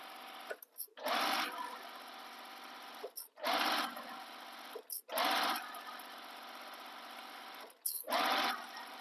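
A home sewing machine stitches a tote bag seam in loud bursts of rapid whirring, pausing briefly between runs, with no talking over the stitching.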